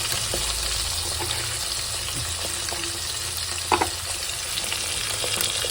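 Taki fish frying in oil in a pan over a low gas flame, a constant close bubbling sizzle with occasional spatters and a brief sharper crackle partway through.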